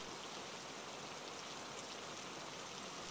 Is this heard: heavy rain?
yes